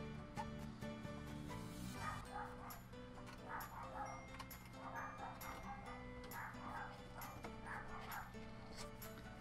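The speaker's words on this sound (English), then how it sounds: "Sorry if you hear dogs at the back" Several dogs bark and yip in the background behind a woman unboxing a calendar set, the barks faint and distant, coming in repeated clusters over a steady hum.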